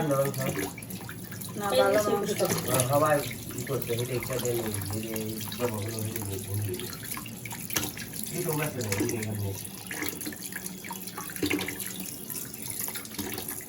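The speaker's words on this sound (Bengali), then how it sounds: "এখানে যে খাসির মাংসটা ধুয়ে নিতেছি" Tap water runs steadily into a sink while goat meat is washed by hand, with splashing and a voice talking over the flow.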